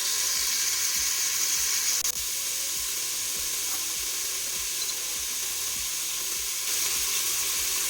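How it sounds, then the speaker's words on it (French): Chorba ingredients brown in a pan with a loud, constant close sizzle and a regular faint low ticking beneath, steady throughout with no voices. "Là je vais laisser dorer quelques minutes."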